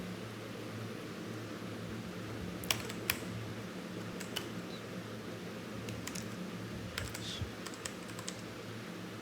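Scattered bursts of computer keyboard typing as a product title is entered in a Shopify store, faint taps over a steady fan-like hiss.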